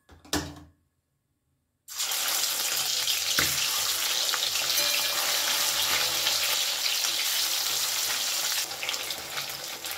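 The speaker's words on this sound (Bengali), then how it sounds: "তেল গরম হয়ে গেছে, তেলের মধ্যে আমি এবারে এই কাঁটাগুলোকে ভেজে নেব।" Bhetki fish bones fry in hot mustard oil with a loud, steady sizzle. It starts after a short burst of sound and a pause of near silence, then carries on unbroken to the end.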